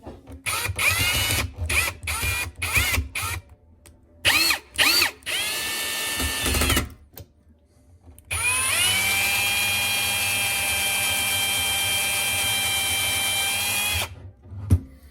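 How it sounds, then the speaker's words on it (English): A power drill whines in several short bursts while driving screws into wood, then runs in one long sustained pull of several seconds, loud and close, with clunks between runs. "screw them in a bit with the drill"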